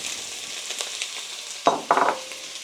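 Onion frying in oil for refried beans, a steady soft sizzle with two louder bursts near the end as pieces stir or hit the hot pan.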